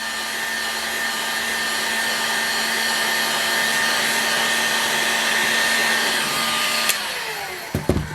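A heat gun blows steadily and close as it heats a Tiger Shark 40A model airplane engine to free its crankshaft, a constant whirring hiss that cuts off near the end, followed by a few light knocks.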